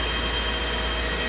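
Cryptocurrency mining ASICs with cooling fans and air conditioning running inside a mining shed give a steady, dense broadband roar with a low hum, constant and fairly close, with no talking.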